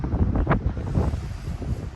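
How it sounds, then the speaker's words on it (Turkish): Strong storm wind roars and buffets the microphone beside a chicken coop, in heavy, continuous gusts, loud and close, with no voices. "Çok fazla rüzgar ve fırtına var."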